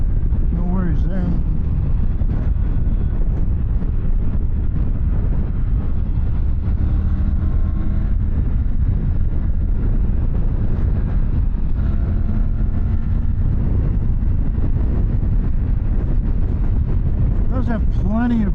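A 2024 Triumph Tiger 900 GT Pro motorcycle cruises on the highway at about 73 mph and 4,500 rpm, giving a steady, loud, close engine drone blended with heavy wind roar throughout.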